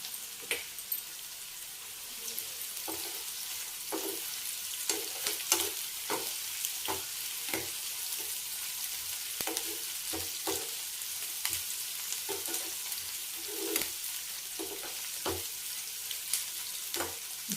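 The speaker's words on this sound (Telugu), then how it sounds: "ఉల్లిపాయలు వేగినాయండి" Onions with green chillies and dried red chillies frying in a pan, a steady close sizzle broken by repeated scraping stir strokes at an irregular rhythm, no voices.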